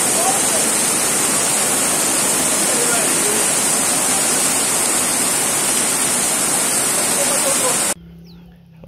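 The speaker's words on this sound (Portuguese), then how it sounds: "Arriou água agora aqui no bairro do Janga, em Paulista, Pernambuco." Heavy rain pouring down in the Janga neighbourhood of Paulista, Pernambuco, a dense, steady roar of water that fills the scene loudly and without break for about eight seconds, then stops abruptly.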